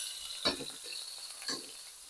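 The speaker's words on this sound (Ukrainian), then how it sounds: "Чекаємо, поки котлетка добре присмажується з однієї сторони." Homemade burger patty frying in a pan gives a steady bright sizzle throughout, with two brief louder scraping or stirring bursts near and clear.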